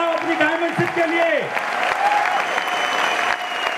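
A large audience at a business gathering claps loudly and continuously, while a voice with a falling, sung tone rises briefly over the start of the applause.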